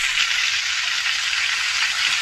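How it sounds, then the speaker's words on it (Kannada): Garlic fries in hot oil with tomato and onion, giving a steady, close, bright sizzle that hisses without a break. "ಬೆಳ್ಳುಳ್ಳಿ ಹಾಕೊಂಡಿದ್ದೀವಿ, ಅದನ್ನು ಚೆನ್ನಾಗಿ ಫ್ರೈ ಮಾಡ್ಕೊತೀವಿ"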